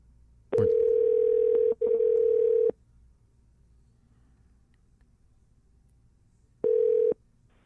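A telephone dial tone sounds on a call-in radio show: two long steady tone bursts come back to back, then a quiet pause, then a shorter burst. No one speaks.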